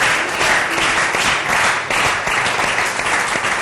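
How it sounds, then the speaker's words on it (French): A church congregation gives loud, continuous applause and cheering in honour of Bishop Albert Nkankienza and the choir, a dense wash of clapping from start to finish. "des acclamations dignes de son rang, de roi de toute gloire"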